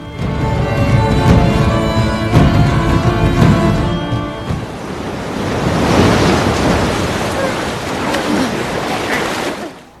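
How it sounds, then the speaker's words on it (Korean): A strong storm at sea in a medieval fantasy action film churns with loud, continuous roaring waves and wind, with a musical score underneath at first before the surging water dominates. "그날 저녁 강한 폭풍과 파도가 휘몰아치고 그들이 탄 배는 산산조각이 나는데"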